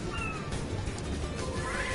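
A cat in the video game Gravity Rush 2 meows clearly several times over a faint game backdrop, its drawn-out calls close and distinct.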